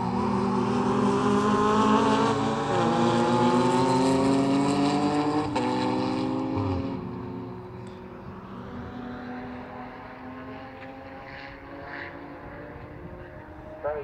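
Race cars at a 750 Motor Club enduro, among them a Ginetta G50 and an Aston Martin V8, roar past loudly with rising and falling engine notes and gear changes, then fade into a quieter distant drone.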